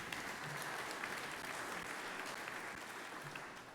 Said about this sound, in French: On l'applaudit, Sylvie, aussi.